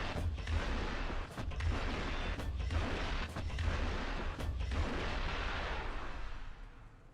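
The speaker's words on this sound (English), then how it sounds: "Gonna start firing them off now." Vehicle weapons in the War Thunder video game fire in a dense, loud barrage of heavy booms and blasts, nearly continuous, with a few brief gaps between volleys before fading at the end.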